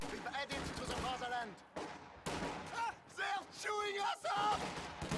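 Rifle gunfire and explosions from a World War II-style real-time strategy battle with grenadiers and riflemen, continuous bursts and booms mixed with in-game shouted voice lines throughout.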